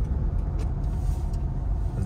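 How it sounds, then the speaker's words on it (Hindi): Light road traffic on a street in Bangkok, Thailand, just off a highway: a steady, moderately loud rumble of passing cars and buses with no distinct events, continuous throughout and without talk. "यहाँ सामने हल्का सा ट्रैफिक है,"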